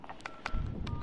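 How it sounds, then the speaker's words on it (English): Bomb planting in a Modern Warfare match, a quick run of short electronic keypad beeps, fairly faint, with game noise underneath. "Plant in the bomb, secure the area."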